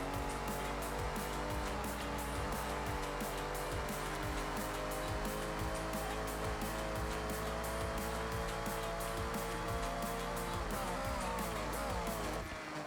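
A race car engine in Forza Horizon 6 on a touge mountain road drones loud and continuous for the whole stretch, with dense harmonic revving and brief shifts near the end.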